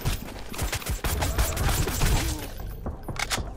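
Rapid 9mm gunfire rattles in the survival game Sunkenland, a dense burst of close shots with thumps and impacts, easing into scattered shots near the end.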